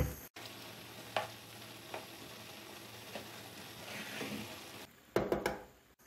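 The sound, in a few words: chicken being mixed into frying pulao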